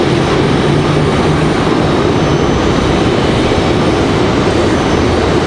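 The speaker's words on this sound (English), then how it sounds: "Charlotte, American flight out here in the distance" A distant American Airlines airliner from Charlotte, seen at Raleigh-Durham airport in a crosswind, gives a steady broadband roar with a low hum, continuous and fairly loud with no talk.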